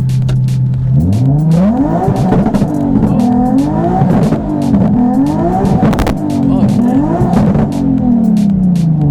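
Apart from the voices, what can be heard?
tuned Nissan 370Z revving and popping with two-step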